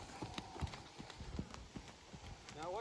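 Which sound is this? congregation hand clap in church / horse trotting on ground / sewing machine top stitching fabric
horse trotting on ground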